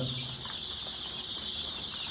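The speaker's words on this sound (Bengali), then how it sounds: "দেশি মুরগির বাচ্চা আনলাম" Desi chicken chicks cheep in a steady high-pitched chorus, close by and continuous, with faint low rustling underneath.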